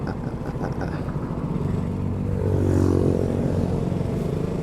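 A KTM Duke 200 motorcycle on the move, its engine humming moderately under road and wind noise, rising slightly in pitch partway through as it pulls along, with no speech.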